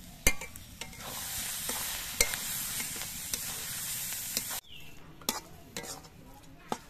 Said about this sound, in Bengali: বাঁধাকপিটা বেশ কিছুক্ষণ রান্না করতে করতে দেখুন বাঁধাকপির মধ্যে কি সুন্দর একটা পাক উঠে গেছে